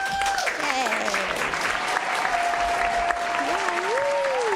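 Steady audience applause fills a community open house gathering, dense clapping running throughout with a few voices and whistles rising over it.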